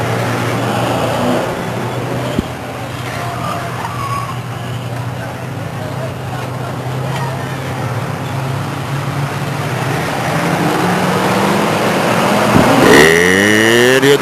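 Race cars roar around Stockton 99 Speedway on a double points night, with a steady, loud engine drone and traffic-like rumble throughout, several cars swelling louder near the end as they pass close by, with an announcer's voice faintly underneath.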